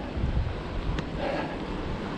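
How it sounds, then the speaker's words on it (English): Wind gusts buffet the microphone outdoors on a hilly road, producing a low, rough rumble throughout the short stretch with no speech. "oh, I've got the wind behind me again."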